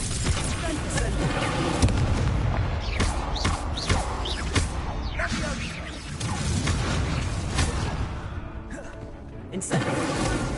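Incendio fire spell combat in Hogwarts Legacy: repeated booming blasts and crackling impacts over a busy game soundscape, with spoken voices mixed in.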